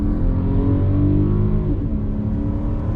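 A 2021 VW Atlas with its V6 engine pulls hard on throttle, a steady, loud, droning engine note sustained throughout with a slight dip in pitch near the end.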